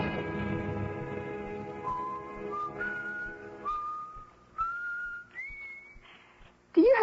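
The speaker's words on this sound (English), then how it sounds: "Do you have to whistle like that all the time?" A person whistles a wavering, rising tune in a radio drama scene, moderately close and fairly quiet, with a brief louder whistle at the end.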